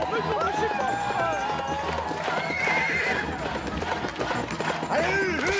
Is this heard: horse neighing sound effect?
yes